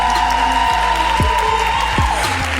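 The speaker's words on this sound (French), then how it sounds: "Faites un tonnerre d'applaudissements à Toku" A comedy show audience breaks into steady, dense applause for a comedian, a continuous wash of clapping that holds at an even level throughout.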